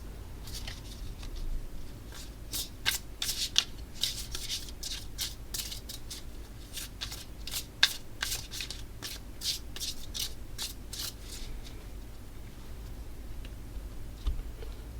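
Playing cards being shuffled back into the deck during a tabletop card game, with a rapid run of crisp flicks, snaps and rubbing that thins out toward the end, close and moderately loud with no talking.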